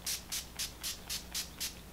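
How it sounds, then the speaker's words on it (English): L.A. Girl Pro Setting HD Long Last Matte Finish setting spray being misted in seven short, crisp hissing bursts. The pumps come in an even, quick rhythm, each one close and clear. There is no talking. "so let's use this setting spray"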